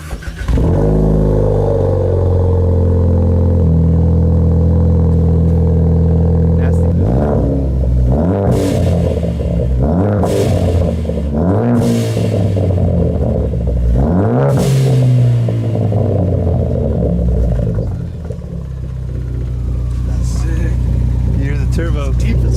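Ford Focus ST turbo engine through an AWE exhaust with 4-inch dual tips, a loud deep idle broken by several sharp revs that rise and fall, with voices talking over it.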